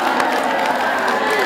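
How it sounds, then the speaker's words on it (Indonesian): An audience at an Islamic study gathering breaks into applause and cheering, a short, loud, dense crowd wash with scattered claps and shouting voices throughout. "tepuk tangan"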